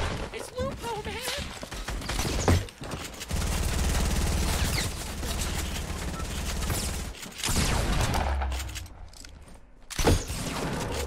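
Bursts of gunfire in Fortnite, with rapid repeated shots in sustained volleys close up, while players talk over the action.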